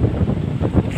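Waves wash over a flooded road beside the water, a churning surf-like rush heavily buffeted by loud wind noise on the microphone, with no one speaking.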